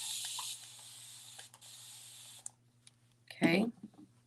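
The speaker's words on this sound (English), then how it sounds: "I'm just gonna spray it down with some water." Water spritzed from a spray bottle onto the terry side of a fuzz cloth, heard as a steady hiss at the start, then quiet handling and one short, louder close burst near the end.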